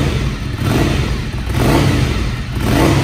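Ducati Scrambler motorcycle engine revving toward about 4,000 rpm, a steady, loud, close mechanical drone that swells and dips slightly across a few seconds, with no talking.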